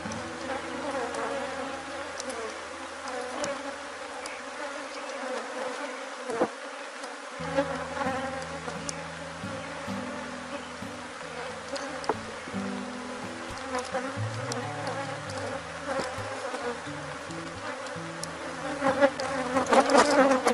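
An Africanized honey bee swarm buzzing around hive boxes, a dense continuous hum with individual bees droning close past, steady throughout and rising slightly at the end, no talking.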